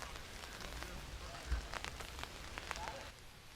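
Rain falling during a disc golf round, a steady soft hiss of drops on surfaces with scattered louder patters and a faint thump partway through.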